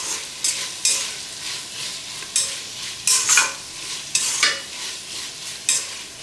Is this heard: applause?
no